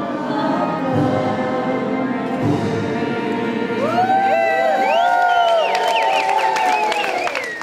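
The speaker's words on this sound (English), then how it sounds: "You know, the seniors are cheering and everybody's going wild." Seniors cheering loudly in a lobby during a senior Olympics event, a sustained roar of shouts, whoops and clapping from a large crowd, loud and continuous with rising cries.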